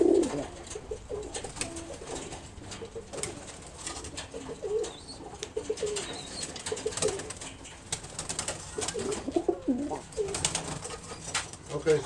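Pigeons coo repeatedly from a backyard cage, low murmuring calls scattered across the stretch with occasional wing flutters and some faint background noise, no clear talk.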